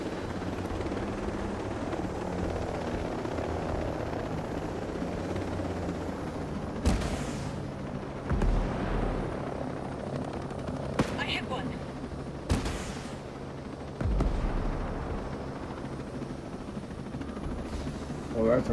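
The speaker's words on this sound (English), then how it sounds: "I could walk it, but I'm gonna take the chopper." A helicopter in the Ghost Recon Breakpoint video game drones steadily throughout, with bursts of gunfire and loud impacts cutting in at several points over the constant rotor hum.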